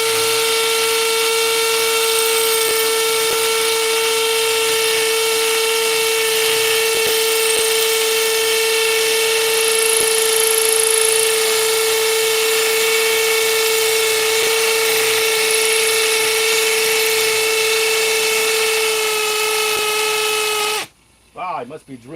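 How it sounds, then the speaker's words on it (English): A battery-powered drill bores into something, giving a loud, steady motor whine with a bright, even pitch that runs unbroken for about twenty seconds before cutting off abruptly. "Wow, I must be drilling into something."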